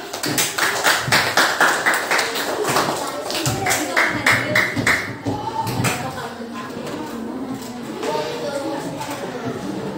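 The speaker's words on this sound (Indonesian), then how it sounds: "Tepuk tangan sekali lagi" Clapping from students at a university economics community outreach session in a classroom, a dense burst of hand claps that tapers off, mixed with chatter and voices throughout.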